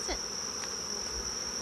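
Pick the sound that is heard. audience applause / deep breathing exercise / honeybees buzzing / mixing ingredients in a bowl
honeybees buzzing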